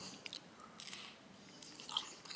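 Someone bites into and chews a salted-butter wheat crêpe in Brittany, producing a few soft, faint crunchy bites and chewing sounds spaced irregularly, close and quiet with no talking.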